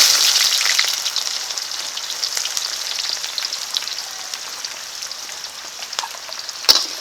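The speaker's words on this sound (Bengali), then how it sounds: "পেঁয়াজটা এখন ভালো করে ভেজে নেবো" Onions frying in mustard oil in a karahi with bay leaves, whole garam masala and cumin, a steady close sizzle with crackling spits that slowly eases, plus one sharp clink near the end.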